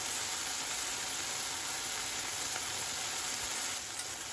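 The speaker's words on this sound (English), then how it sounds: "Saute them very quickly, still on very, very high heat." Beef sizzles and stir-fries with ginger and garlic over very high heat in a Sichuan beef and pepper dish, a loud, dense, unbroken hiss of frying throughout.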